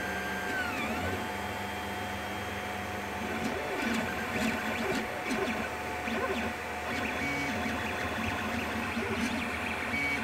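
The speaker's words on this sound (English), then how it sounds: "It was a printer bed smacking on my phone." A CR-10 3D printer's moving bed smacks against a phone, heard as a steady mechanical whir and hum with sharper knocks and clatters near the middle, fairly close and without speech.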